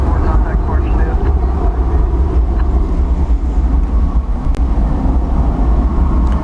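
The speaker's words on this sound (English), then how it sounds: "Here comes American Airlines Flight 1659. It is arriving from Los Angeles. That's an Airbus A321neo." An American Airlines Airbus A321neo arriving from Los Angeles at DFW Airport at sunset makes a steady, loud broadband jet roar that holds throughout.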